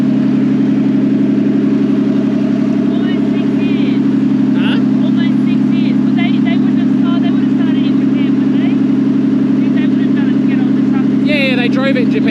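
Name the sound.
engine of the EBISU missile car running after starting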